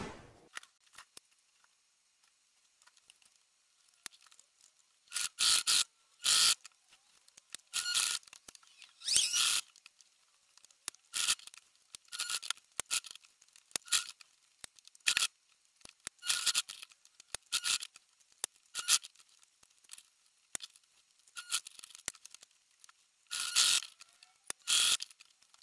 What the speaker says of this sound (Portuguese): é só você ir para a máquina e costurar normalmente com o ponto que você deseja